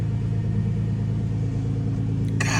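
Modified 2009 Nissan GT-R Premium with full bolt-ons and E85 flex fuel idles with a steady, deep rumbling burble, close and loud, ending in a brief harsh burst of broadband noise.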